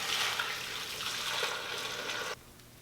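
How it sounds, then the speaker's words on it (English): Boiling water pours into a slow cooker over roasted bones for bone broth, a close splashing rush lasting a couple of seconds before stopping abruptly into quiet. "And then we'll add the water. Be careful because this is boiling water."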